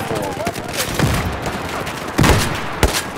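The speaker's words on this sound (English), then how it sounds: "Five seconds of shooting." Gunfire in the Battlefield 4 video game, a few scattered bursts and single shots crackling over a noisy background, moderately loud with no clear rhythm.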